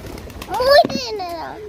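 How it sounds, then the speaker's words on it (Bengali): A chicken squawks while eating, a few loud rising and falling calls close by, with a voice nearby. "ওখানে মুরগিটা খাচ্ছে চিল্লাচ্ছে"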